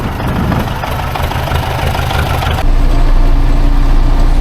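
Tractor engine running at about 1900 rpm while harrowing a field for corn, a loud continuous diesel rumble that grows heavier partway through.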